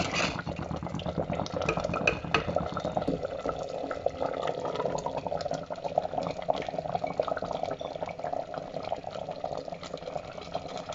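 A spoon stirs kurukku kalan, a thick Kerala sadya yogurt curry, with ghee in a pot, giving a steady wet, sloshing churn that runs continuously and close by with no talking.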